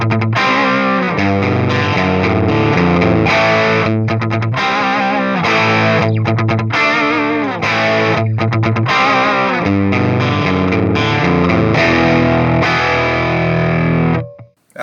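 Electric guitar played through a Fortin Cali amp model on a Flatsons KE1 effects unit, loud and distorted with chordal riffs and sustained notes, steady throughout and cutting off at the end.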